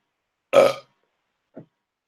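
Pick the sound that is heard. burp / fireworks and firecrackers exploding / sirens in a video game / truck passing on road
burp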